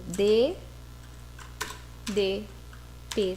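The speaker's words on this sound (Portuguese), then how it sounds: "vocês vão digitar no teclado de vocês DDA type e vai clicar em Enter" Brief clicks of computer keyboard keys are typed into AutoCAD 2020, tapping between stretches of a person speaking close to the microphone.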